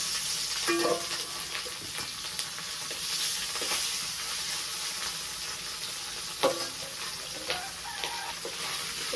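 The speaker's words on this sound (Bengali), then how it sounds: "আমি এখন এলো মাছ ভাজি করবো" Fish fries in a pan with a continuous loud hiss and sizzle, broken by a few sharp clinks and scrapes of a utensil, and no one talks.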